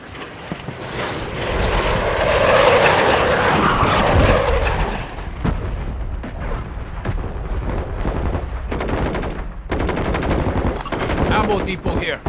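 Friendly support aircraft roar in over a Call of Duty battlefield, a loud engine swell peaking early, then fading into ongoing gunfire and bursts as the plane passes.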